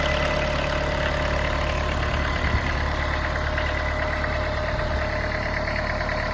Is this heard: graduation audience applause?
no